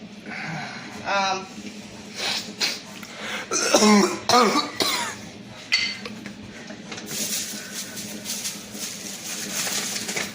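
A few short coughs and throat-clearing sounds close by, mixed with quiet clinking of kitchen items and some talking.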